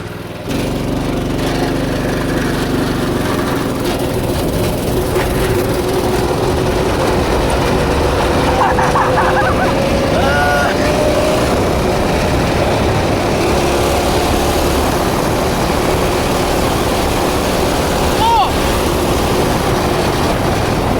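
A go-kart engine from a trashed kart rebuild runs loud and continuously, with a steady buzzing drone throughout.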